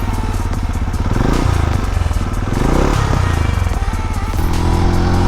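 A Benelli Imperiale 400 cruiser motorcycle's engine revs hard through the gears, rising and dropping in pitch as it shifts, running up to the rev limiter in second gear; loud, close and steady throughout.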